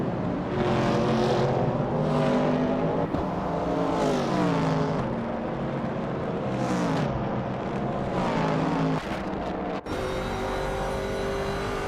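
Race cars in a racing video game roaring past while overtaking, with high engine whine rising and falling through repeated gear shifts and sustained revving that stays loud throughout.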